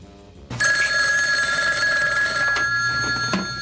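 A telephone bell rings loudly and steadily, a bright continuous trill starting abruptly after a quiet moment.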